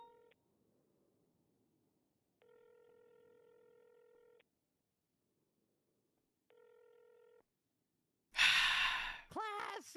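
Phone ringback tones in GTA V roleplay on NoPixel, three long electronic ring bursts separated by silence, followed by a loud breathy sigh or exhale at the end.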